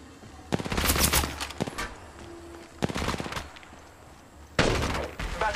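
Automatic gunfire in the Apex Legends Mobile video game, R-301 and EVA-8 Auto weapons, erupting in three loud bursts of rapid shots separated by quieter gaps, with no voices.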